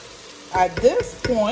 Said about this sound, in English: You hear that sizzling? Okay, so that means our vegetable is frying beautifully.